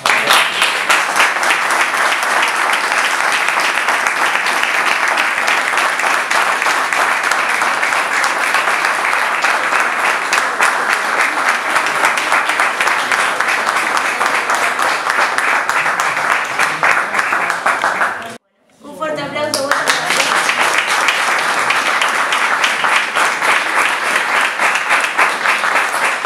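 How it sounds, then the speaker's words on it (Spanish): A crowd at a raffle prize-giving claps steadily and loudly for a long stretch, with a brief drop to silence partway through before the clapping resumes. "así que un aplauso para ella."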